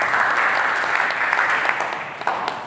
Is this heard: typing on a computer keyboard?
no